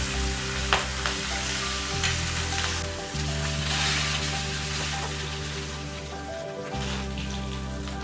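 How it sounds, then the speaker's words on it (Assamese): Chopped onion, green chilies and five-spice sizzle and crackle in hot oil, a continuous close frying hiss with occasional pops and a low hum underneath. "ৰং সলনি হোৱালৈকে ভাজিম আমি"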